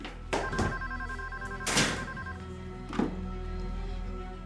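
A telephone rings in short electronic bursts, three separate rings spaced about a second apart, moderately loud against a quiet room with low background hum.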